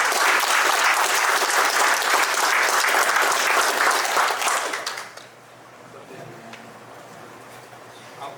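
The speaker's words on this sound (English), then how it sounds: "let's give a nice big round of applause to Juan Miguel." A lecture audience bursts into loud, dense applause for a speaker presenting on swordtail fish, sustained for about five seconds before fading abruptly into a quiet room.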